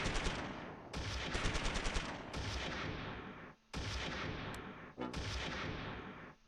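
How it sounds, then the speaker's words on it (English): Bursts of gunfire and explosions come from the Close Combat III war game during a Stalingrad battle. The firing is loud, with overlapping rattling volleys broken by short pauses, and no one speaks. "now they're shooting back"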